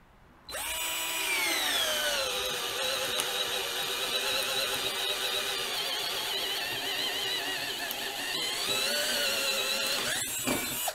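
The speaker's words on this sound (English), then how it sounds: "these are self-feed bits. I'm not pushing real hard. I'm just letting the drill bit do the work." A cheap 12V cordless drill with a self-feed bit whines steadily for several seconds as it bores through wood, its motor pitch sagging under load, then briefly stops and restarts near the end.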